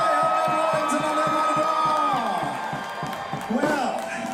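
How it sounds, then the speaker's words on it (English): A crowd cheers and whoops at a Mardi Gras pole-greasing contest in New Orleans, loud and continuous, while an announcer's amplified voice carries over it through to the end. "Let's give it a huge round of applause for the Sky Island"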